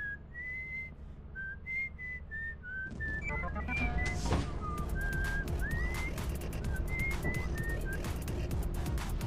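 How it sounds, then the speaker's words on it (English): A person whistles a short series of clear, wavering tones, first alone and then over a louder rumbling background with rapid clicking, close and fairly distinct throughout. "It really hurts to whistle!"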